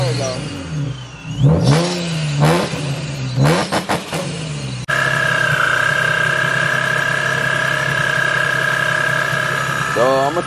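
A Nissan G35 fitted with a Vortech supercharger revs with a steady, loud engine drone and a high supercharger whine that holds over most of the stretch, after a few sharp throttle blips at the start.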